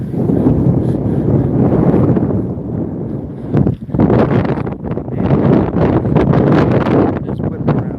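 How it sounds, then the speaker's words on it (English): Gusting wind buffets an outdoor microphone beside rippling water, producing a loud, continuous low rumble that surges and dips throughout. "oh man, that wind again."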